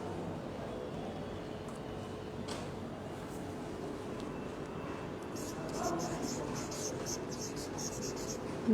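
A teacher in a first-grade Bangla class writes on the board, steady faint scratching strokes over a quiet room hum, with some light clatter near the end.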